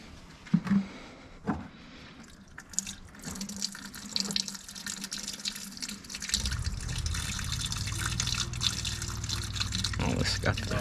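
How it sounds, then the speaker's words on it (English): Coolant drains from the passenger-side radiator petcock of a Camaro SS, starting as scattered drips and trickles and building into a steady close splashing stream, with people talking over it early on. "Let the coolant drain from the Peacock on the passenger side."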